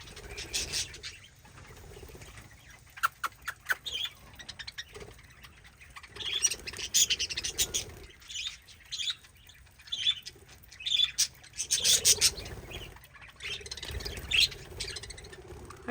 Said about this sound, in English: All the little happy budgies and cockatiels over there.